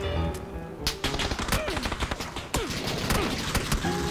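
Rapid bursts of gunfire from an online shooter video game, dense overlapping shots and automatic volleys crackling continuously and loudly, with sharp peaks throughout and no pauses.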